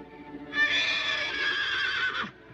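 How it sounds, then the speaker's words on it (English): A horse whinnies once, a shrill wavering neigh of about two seconds that rises and then trails off, heard alone over quiet background. "It's just an old horse whinnying."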